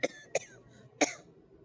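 Three short dry coughs, one after another, with a slightly longer pause before the last one, close and fairly quiet against a silent background.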